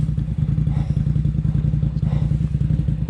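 An ATV engine idling roughly in thick mud, a loud, steady, thumping low putter with rhythmic clatter close by, no voices.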